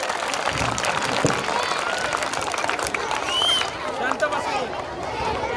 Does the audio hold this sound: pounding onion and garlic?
no